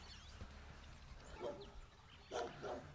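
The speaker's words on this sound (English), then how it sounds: "Dog, can you please be quiet?" A dog barks a few times at moderate distance, in short bursts around the middle and end, faint over a low background hum with no talking.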